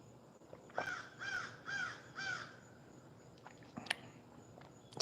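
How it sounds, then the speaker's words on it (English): Crows caw outdoors, four loud, evenly spaced calls close by, followed by faint rustling and a few soft clicks. "It's my beautiful birds."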